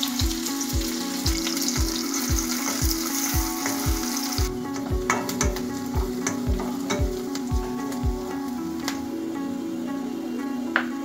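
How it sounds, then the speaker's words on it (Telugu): Mustard seeds, cumin and finely chopped onions fry in hot oil for a spinach vegetable curry, giving a steady loud sizzle with a regular stirring scrape about twice a second, heard alone with no talking. "ఇందులో మనం ఆవాలు కొద్దిగా జీలకర్ర వేద్దాము। ఇందులో మనము సన్నగా తరిగిన ఆనియన్స్ కూడా వేద్దాము।"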